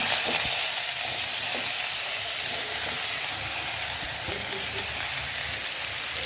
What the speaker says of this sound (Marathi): तर ही फोडणी आता आपली चांगली तडतडत आहे